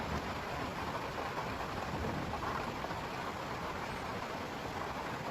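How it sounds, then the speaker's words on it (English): Steady rain pours down in a severe storm, a dense, even hiss with no pauses that runs alone and fairly faint. "Good to see the rain."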